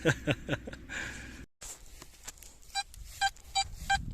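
Several short electronic beeps from an XP Deus metal detector beside a path in Bavaria, evenly spaced, follow a burst of rustling and a brief silence; the tones are clear and fairly close.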